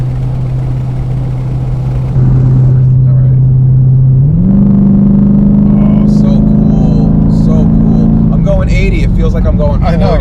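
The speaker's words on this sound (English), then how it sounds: "if you put the pedal to the metal, you'll get that growl. Yeah, growl comes out. Yeah, you'll hear the exhaust." A cammed Jeep SRT's exhaust growls under acceleration, its steady drone rising sharply in pitch partway through and holding loud beneath people talking inside the car.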